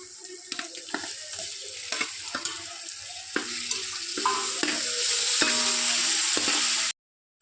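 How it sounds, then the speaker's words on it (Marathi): Chopped tomato goes into a frying masala of green chili and ginger-garlic paste for chicken biryani, bringing repeated spatula knocks and scrapes over a sizzle that swells louder before cutting off abruptly. "आता आपण यामध्ये बारीक चिरलेला टोमॅटो टाकू."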